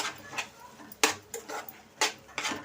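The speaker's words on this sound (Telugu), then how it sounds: "కొద్దిగా కొత్తిమీర ఇప్పుడు బాగా కలుపుకుందాం" A spoon clinks and scrapes in a bowl as coconut chutney is stirred together with coriander and curry leaves, giving several sharp close knocks spaced unevenly over about three seconds.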